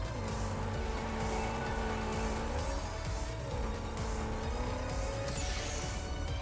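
Loud muscle car engine racing in the Horizon Chase Turbo video game, a steady revving drone with pitch rising and falling through gear changes, close and constant under game music, with no talk.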